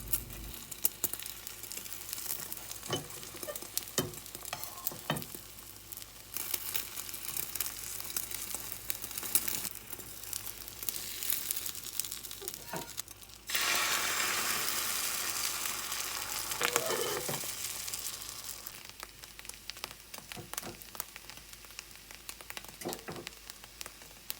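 Egg frying in a pan for a thick rolled omelette, a steady soft sizzle throughout with occasional spatula scrapes and taps, and a brief louder hiss midway, no talking.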